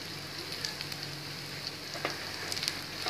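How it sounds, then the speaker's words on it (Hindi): Chilies fry in a pan for a chicken ginger gravy, giving a steady, soft sizzle and crackle with faint scattered pops throughout and no speech. "और अच्छे से फ्राई कर लेंगे।"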